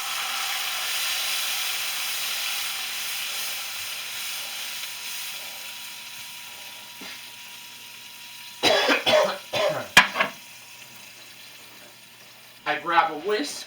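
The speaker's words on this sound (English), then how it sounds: "we're going to add an entire beer into this pan" Whole bottle of beer poured into a hot steak pan, giving a broad steady hiss that fades slowly over several seconds, followed by brief clattering bursts of scraping and movement near the end.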